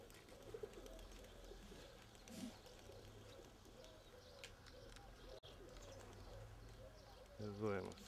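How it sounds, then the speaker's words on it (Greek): Two-month-old pigeons coo in low, repeated murmurs through the whole stretch. Someone talks over them now and then, and a few brief chirps come through. "Εδώ τώρα ξεκίνησαν τα περιστέρια."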